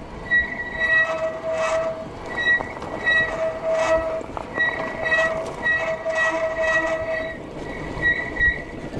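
Squealing worn brakes on a Cyrusher Ranger fat tyre eBike ridden around a seaside harbour, repeated shrill metallic squeals that come in bursts of a second or two with short gaps between them.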